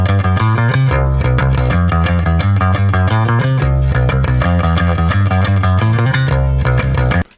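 Electric guitar runs through heavy distortion on an isolated multitrack, playing a loud, dense rhythmic lick with thick sustained harmonics that stops abruptly at the end.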